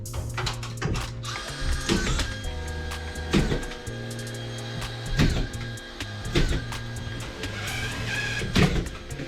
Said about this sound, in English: Get the last of the screws in